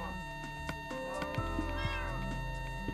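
Several cats meow in the video game Minecraft, a series of short tonal calls rising and falling over the clip, close and clear amid light game sounds.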